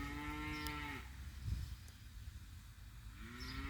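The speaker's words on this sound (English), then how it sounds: "So yeah, my daughter set the cows off." Cattle moo nearby, two long, low drawn-out calls, one at the start and another near the end, with a quiet pause between.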